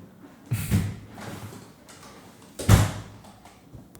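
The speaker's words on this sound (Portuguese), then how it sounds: "Ele fica bravão que a porta não fica fecha" A door swings shut with a solid thud and short rattle, followed a couple of seconds later by a second, louder closing knock, both close by in an otherwise quiet room.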